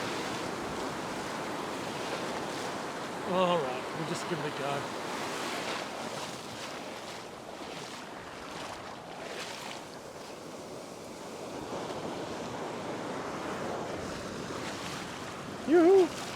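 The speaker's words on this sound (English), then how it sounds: "Here come the waves." Ocean waves wash and break on the shore in a steady, broad roar mixed with wind buffeting, while people fishing from the beach talk over it and a brief louder knock sounds near the end.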